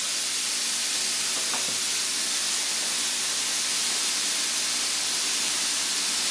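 Steak searing in a hot pan for carne asada fries, a steady broad hissing sizzle that holds evenly and close throughout, with no talking over it.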